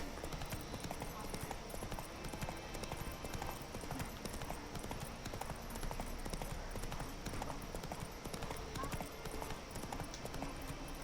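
Roach the horse gallops in The Witcher, with a steady stream of rapid hoofbeats under dense game sound and music, fairly even and continuous throughout.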